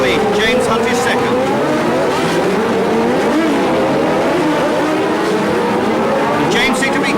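1976 Formula 1 race cars at the US West Grand Prix on Shoreline Drive brake toward a tight 35 mph hairpin, engines wailing and shifting pitch continuously, loud and close, without any talk heard.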